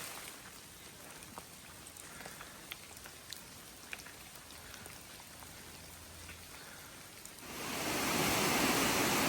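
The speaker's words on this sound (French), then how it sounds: "il commence à pleuvoir fort" Heavy rain pours down on a mountain hiking trail along the Appalachian Trail, a steady dense hiss of drops striking leaves and ground that swells into a louder, closer downpour near the end.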